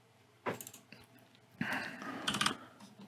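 Typing on a computer keyboard while setting up radio inputs in OpenTX Companion: quiet, close key clicks in two short clusters, the second busier and slightly louder, with no talk.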